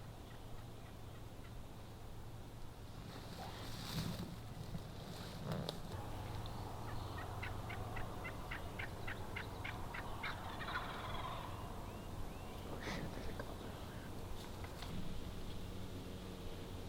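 Wild turkeys in New York farm country gobble in a rapid rattling burst near the middle, with scattered calls before and after, moderately distant over steady cold wind noise.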